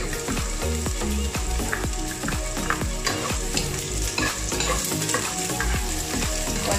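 Onion frying and being stirred in a pan for mung bean sprout spring rolls: a steady sizzle with frequent sharp clinks of a utensil against the pan, close and continuous, no talking.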